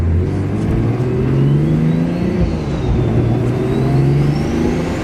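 A Nissan Skyline GT-R's engine pulls steadily under load on a test drive, a loud, continuous drone with rising tones as it accelerates, heard from inside the car without talk.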